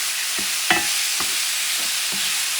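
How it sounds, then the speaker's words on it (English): Ground meat frying in a pan on medium heat for pasta picadillo, with a soft continuous sizzle and a few distinct scraping stirs of a utensil, close by and without talk. "Mix things well. And you want the ground meat to cook, okay? Make sure it cooks."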